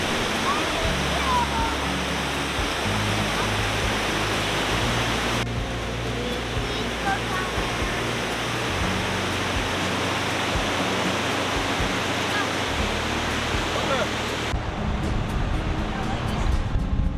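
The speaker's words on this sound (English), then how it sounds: "Look at that waterfall." Lower Yosemite Falls in Yosemite National Park thunders as a dense, continuous roar of falling water, loud and unbroken throughout, with faint voices of people nearby mixed into the wash.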